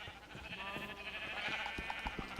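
Sheep bleat in the Minecraft video game, with a short wavering animal call over a busy background of game sounds and scattered clicks, fairly faint.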